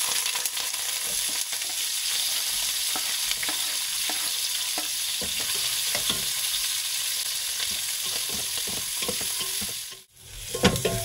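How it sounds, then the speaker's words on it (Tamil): Mustard seeds splutter and crackle in hot oil alongside coriander root for a South Indian drumstick lentil curry, a continuous close sizzle with scraping stir strokes and a brief dip near the end. "கடுகு பொரிய ஆரம்பிச்சிச்சு"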